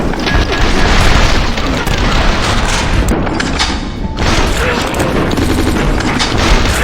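Dense, continuous video game gunfire with heavy booms and rapid automatic bursts as enemies are shot, loud and sustained over the whole stretch with a brief dip in the middle.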